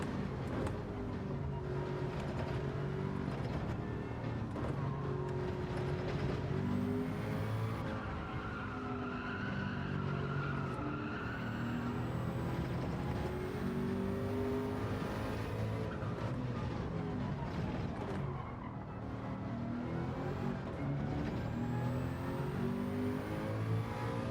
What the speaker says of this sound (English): these cars sound awesome.